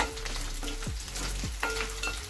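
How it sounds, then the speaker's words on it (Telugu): Washed dried prawns frying in hot oil in a kadai for a Telugu egg and dried prawn curry, a steady close sizzle with occasional stirring scrapes throughout and no talk. "ఆయిల్ వేడెక్కాక ఈ కడిగి శుభ్రం చేసుకున్న ఎండురాయిలు బాగా ఏగాలన్నమాట"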